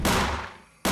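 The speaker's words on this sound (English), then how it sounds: "it's blown apart and the highly flammable propane and butane gases turn into a fireball" A deodorant aerosol can heated by a gas flame bursts with a single loud, sharp blast that decays over most of a second before another burst cuts in at the end.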